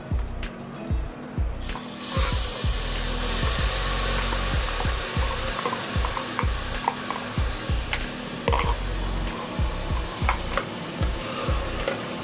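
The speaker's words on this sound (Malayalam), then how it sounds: "നെക്സ്റ്റ് നമുക്ക് നമ്മൾ എടുത്ത് വെച്ചിരിക്കുന്ന സവാള അരച്ചത് ആഡ് ചെയ്ത് കൊടുക്കാം." Onion paste sizzles in hot oil in a pan for chole while a spoon scrapes and stirs it in a steady, repeated rhythm, loud and close, with no voices.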